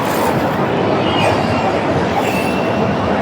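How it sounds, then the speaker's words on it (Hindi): A metro train runs along an overhead line near Anand Vihar in Delhi, a loud, continuous rolling rumble with faint wheel squeals threaded through, close by and unbroken for the whole stretch. "ये ऊपर से मेट्रो लाइन गई हुई है।"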